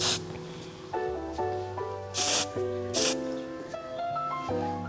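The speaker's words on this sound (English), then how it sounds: "I'm just gonna go in with my spray and just touch it up" Two short, bright hissing bursts of hairspray are sprayed onto styled hair as a finishing touch, standing out over steady background music.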